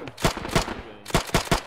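Rapid bursts of gunfire in a World War II video game battle at Narva, several sharp close shots in two quick clusters.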